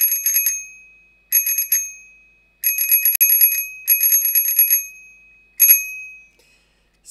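Cateye PB-600 super mini bicycle bell with an aluminium dome and plastic body, rung in five bursts of rapid bright dings with short pauses between them, close and clear with no talking.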